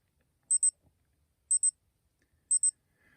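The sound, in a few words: alarm of Citizen BL5400-52A watch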